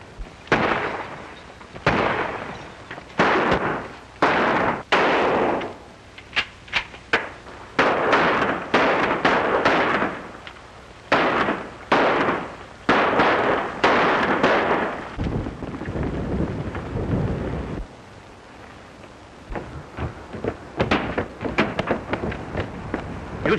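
Gunfire in a 1938 western range-war shootout: rapid, dense volleys of sharp shots and cracks crowd one another at a steady loud level, thinning to scattered reports near the end.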